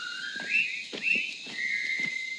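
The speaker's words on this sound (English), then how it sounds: "you hear the Colonel Bogey March" The Colonel Bogey March is whistled in the film The Bridge on the River Kwai, a bright, lilting melody of short rising and falling phrases carried alone by the whistlers, with a faint room tone behind.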